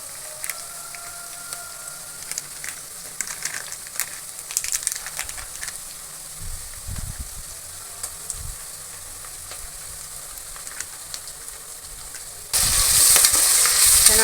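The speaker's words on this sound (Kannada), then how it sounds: "ಇವಾಗ ಇದಕ್ಕೆ ನಾನು ಶುಂಠಿ ಬೆಳ್ಳುಳ್ಳಿ ಪೇಸ್ಟ್ ಹಾಕ್ಕೊತೀನಿ." Ginger garlic paste sizzling in a hot pan for vegetable pulao, with steady crackling fry and intermittent scraping stirs, close by, growing louder and fuller toward the end.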